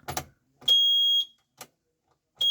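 Mechanical clicks are followed by a sharp, high electronic buzz from a Maruti 800's ignition key-on buzzer. A second tone starts at the end, close and clear with quiet gaps between sounds.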